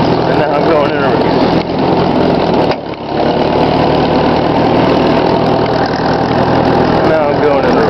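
A 1954 Ford NAA tractor engine runs loud and close in reverse, a steady low chugging drone with knocking texture and a brief dip, while someone talks over it.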